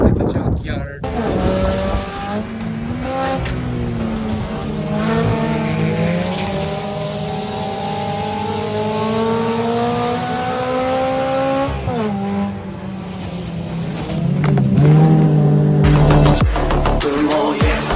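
Race cars at a junkyard make a sustained engine drone with rising and falling pitch as they race past, loud and steady throughout and building again near the end.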